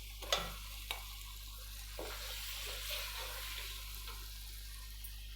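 Chopped tomatoes go into spices frying with black peppercorns and turmeric, giving a soft steady sizzle with a few sharp stirring clinks near the start, under a constant low stove hum.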